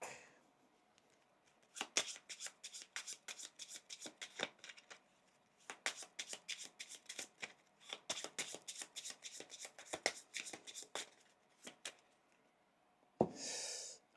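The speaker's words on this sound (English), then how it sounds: "We shuffle the travel deck." A deck of board game cards being shuffled, a long run of quick riffling flicks and taps in uneven bursts, close but quiet, with no talking.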